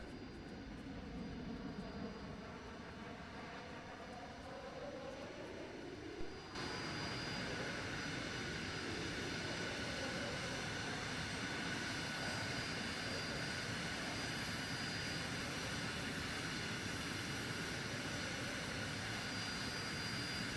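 Steady, continuous airplane engine drone in a video game, a loud constant hum filling the whole stretch with a slight shift partway through, no talking over it.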